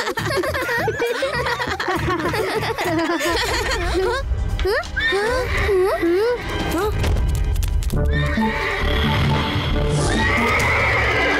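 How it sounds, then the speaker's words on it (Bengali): A loud horse neighs and whinnies repeatedly, shrill rising and falling calls close by, with hoof clops and other noises mixed in. "মনে হচ্ছে কোনো বুনো ঘোড়া বিপদে পড়েছে।"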